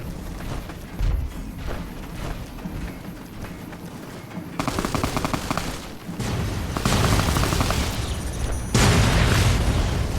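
Gunfire and booms over the wasteland in Fallout Tale of Two Wastelands, with a steady rumble of distant shots giving way to louder, dense bursts of firing that swell in the second half.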